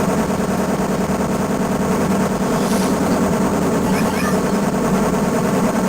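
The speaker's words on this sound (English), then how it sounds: "I put on like infinite machine gun cheat." Rapid, dense machine gun fire from the arcade shooter Blood Bros., a relentless stream of gunfire mixed with game noise and explosions, loud and unbroken throughout.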